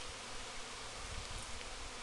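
Honey bees swarm and buzz steadily during the installation of a new top bar hive outdoors, a dense, continuous hum close to the microphone with no talking.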